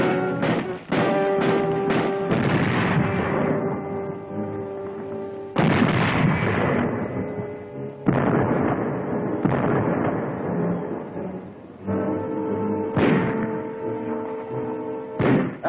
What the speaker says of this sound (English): The Nazis direct their fire across the harbor.